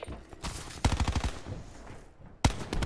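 Automatic gunfire in Call of Duty: Black Ops 4 beta multiplayer: a rapid, punchy burst of about half a dozen shots, then a lull of background game noise and a short sharp volley at the end.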